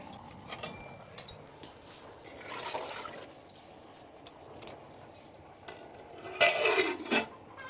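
Cauliflower and potatoes dropped into hot water in a pot on a wood-fired stove, with clattering of vessels and utensils, splashy watery bursts, and a louder clatter and splash near the end.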